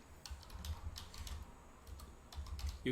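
Quick bursts of keystrokes on a computer keyboard, close and fairly quiet, clustered in short runs with small pauses between them.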